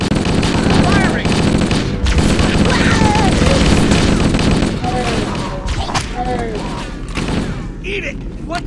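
Heavy, continuous gunfire and explosions in the Halo: Combat Evolved firefight aboard the Pillar of Autumn, loud and close, with shouting voices mixed in throughout.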